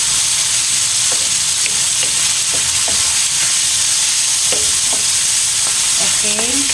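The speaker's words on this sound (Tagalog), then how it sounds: "Okay, so balutuon pa una ang karne bago natin ilagay ang atong gulay." Meat sizzles and fries steadily in a pan, a constant loud hiss with scattered scrapes and stirring clinks from a spatula throughout.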